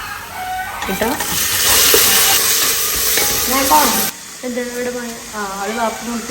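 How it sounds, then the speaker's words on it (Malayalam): Onions, tomato and green chillies fry in a pan with a steady sizzle and stirring, while a rooster crows nearby and voices talk over it in a home kitchen. "ഉള്ളി ഏകദേശം നല്ല മൊരിഞ്ഞ് വന്നിട്ടുണ്ട് നമുക്ക് ഇതിലേക്ക് തക്കാളി പച്ചമുളക് ഇട്ട് കൊടുക്കും"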